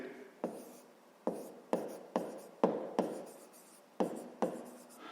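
A pen scratches out a math solution by hand, with repeated short strokes and taps in an irregular rhythm, close and fairly quiet, with no talking.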